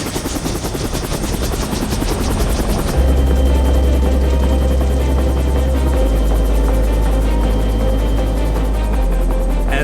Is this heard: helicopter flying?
yes